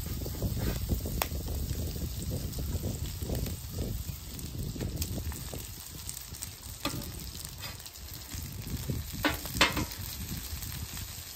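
Bubble and squeak, a leftover mash of potato and vegetables, frying in plenty of butter on a griddle, giving a steady close sizzle with occasional stirring scrapes and no talk.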